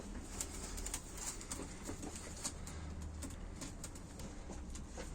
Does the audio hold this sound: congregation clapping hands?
no